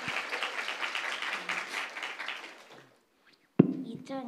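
A church congregation claps together for about three seconds in a dense patter of hands that fades to silence, followed by a brief sharp sound and a voice.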